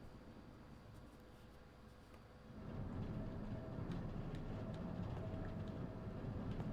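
A train rumbles inside a moving carriage in the Resident Evil Zero game on GameCube, a low steady roar that swells partway through and keeps going with soft rattles, no voices.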